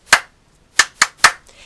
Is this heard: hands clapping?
yes